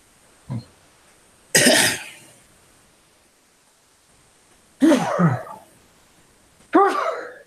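Three sharp, explosive bursts from a nearby person, spaced apart in an otherwise quiet room, preceded by a short nasal catch; sneezes or harsh coughs.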